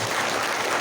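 A church congregation claps together to welcome newcomers during a parish retreat, a brief, steady wash of dense applause with no voices over it.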